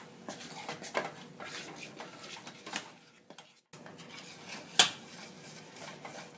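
A metal spoon scrapes and taps against a pan of melting butterscotch chips set over boiling water, in irregular strokes, quiet and close, with one sharper clink near the end.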